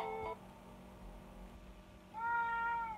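A cartoon cat in an SMG4 animation meows twice, a short high cry at the start and a longer, louder one near the end, over a faint background.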